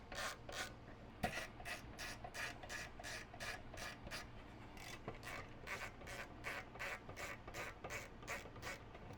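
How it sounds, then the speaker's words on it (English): Screws being backed out of the case of a stock 16-bit Subaru ECU, a steady run of rapid, evenly spaced ratcheting clicks close up, with a couple of sharper ticks along the way and no talking. "So we'll go ahead and remove the case screws themselves."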